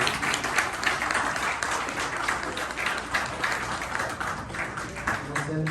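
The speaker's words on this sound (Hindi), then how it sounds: "अहमद कुरेजा के लिए बहुत सारी तालियां, और ये हमारी को होस्ट के लिए फहमीदा के लिए" Loud, sustained applause from a crowd at a meet-and-greet with Pakistani cricketer Saqlain Mushtaq, dense clapping that continues steadily throughout.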